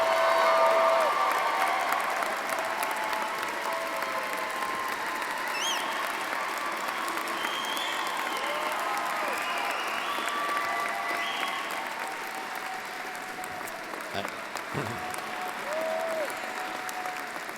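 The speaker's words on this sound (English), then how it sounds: "the YouTuber and Gina get bigger applause than Dr. Lim" An inauguration audience gives long, sustained applause for Gina Lim that fades slightly toward the end, with a few faint voices and whistles mixed into the clapping.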